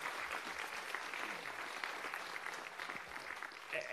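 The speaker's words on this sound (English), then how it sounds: "A round of applause for Nod and for all the hard work that they've done." Faint applause from the audience at a mayoral debate, an even patter of many hands clapping for a few seconds with no one speaking over it.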